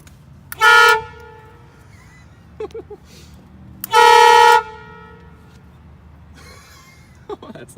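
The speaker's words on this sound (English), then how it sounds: "So we're using a switch to control the horn because they didn't have buttons." An air horn installed on a Dodge Dakota pickup, worked by a switch, lets out two loud, close, brassy blasts, each under a second long, with brief voices and shuffling noises in the quieter gaps.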